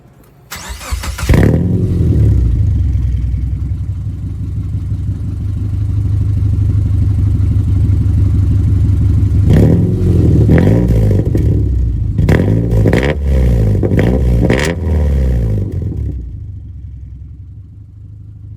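A 2005 Subaru Forester 2.5X engine starts and idles with a loud, raspy drone through a Flowmaster FlowFX aftermarket exhaust, 2.5-inch conversion, then revs up sharply several times in quick bursts before cutting off.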